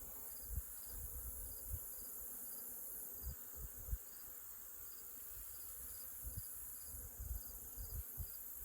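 Faint, steady honeybee buzzing drones around a hive throughout, with soft low thumps and bumps now and then; no one speaks.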